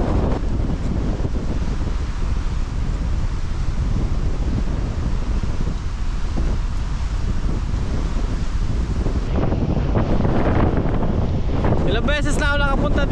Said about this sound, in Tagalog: ngayon ko lang naranasan yung ganito kalakas na hangin